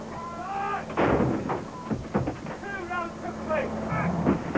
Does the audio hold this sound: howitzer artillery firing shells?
yes